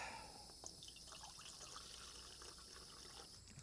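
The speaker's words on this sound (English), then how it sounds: "Get myself a cup of water here." Water trickles faintly and steadily into a small army cup at a car-camping table, a soft, continuous pour with light splashing.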